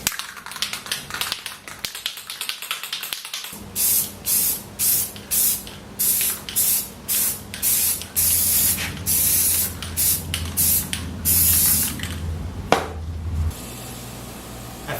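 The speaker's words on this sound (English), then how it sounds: "Going to put a little Rust-Oleum primer on it." Rust-Oleum primer hisses from an aerosol spray can onto a garden gate in a run of short, regular bursts, close and loud, after a rattly lead-in of handling noise.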